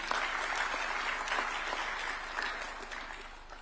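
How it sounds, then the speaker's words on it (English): Audience applause at a Supreme Court judge's swearing-in ceremony, a brief burst of steady clapping from a crowd, moderately distant and fading slightly toward the end. "A round of applause for him, please."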